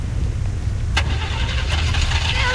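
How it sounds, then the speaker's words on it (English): A car engine starting in a Jurassic Park video game: a brief sharp crank near the start, then a steady low engine rumble running through to the end at constant loudness. "Or we should start the car."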